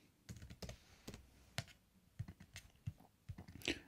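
Code typed on a computer keyboard while writing SwiftUI in Xcode, quick irregular close key clicks with a few heavier keystrokes, quiet and without talk.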